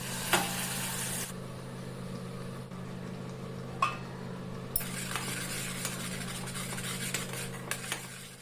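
A ground paste of lightly boiled ingredients fries in a pan for a home lunch, giving a steady close sizzle. A spoon stirs with occasional sharp metallic clinks and scrapes over the continuous hiss.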